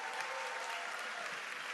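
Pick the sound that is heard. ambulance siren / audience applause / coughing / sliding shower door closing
audience applause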